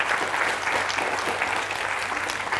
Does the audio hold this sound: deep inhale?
no